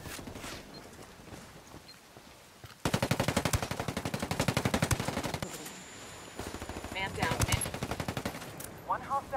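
Automatic gunfire in a Ghost Recon PvP video game firefight, rapid bursts crackling loudly after a quieter opening, with a brief lull and further sharp volleys, and a voice speaking over the shooting.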